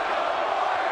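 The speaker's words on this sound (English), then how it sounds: "The roar of the crowd." A large arena crowd at a Phoenix Suns versus Golden State Warriors basketball game lets out a brief, steady roar of cheering voices.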